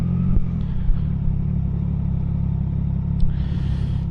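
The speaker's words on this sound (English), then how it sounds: "this is an exhaust that I got installed on the bike" A deep, steady motorcycle exhaust rumble from an aftermarket MIV exhaust idling close by, loud and continuous with a slight rise in pitch near the end.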